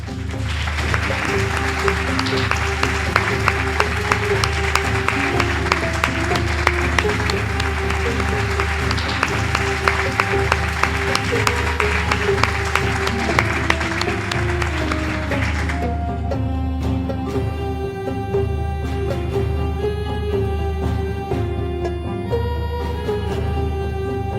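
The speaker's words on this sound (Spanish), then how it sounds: "Ahora, un aplauso también para cerrar" A studio audience claps at the close of a Roman history talk show, a dense burst lasting about fifteen seconds over background music, which then carries on alone.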